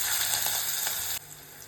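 Cumin and onion hit hot oil in a pan for fried rice, a bright dense sizzle that drops abruptly in level near the end, with no talk.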